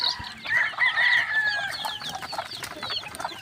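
Two-month-old chicks in a small chicken coop at feeding time chirp and peep repeatedly and fairly close, over a light background clatter.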